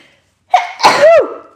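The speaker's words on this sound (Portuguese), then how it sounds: "Eu vou espirrar." A single close, loud sneeze: a sharp intake of breath, then the explosive burst, with no other sound around it.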